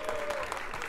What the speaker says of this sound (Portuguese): Palmas pra batalha, família.